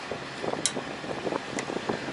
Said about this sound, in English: Pretty windy here today.